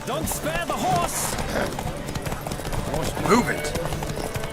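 Galloping hooves drum rapidly during a horse race in the game Witcher 3: Wild Hunt, mixed with shouting voices, crowd noise and an occasional whinny.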